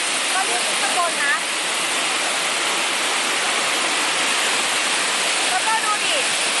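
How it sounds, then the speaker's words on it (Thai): Tard Mok waterfall pours off rocks in a steady, close, full-bodied roar of rushing water that never lets up, with a faint voice surfacing briefly near the start and again near the end. "นี่แหละน้ำตกตาดหมอกครับ"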